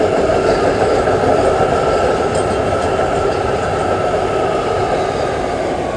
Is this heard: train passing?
yes